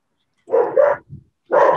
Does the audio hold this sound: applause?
no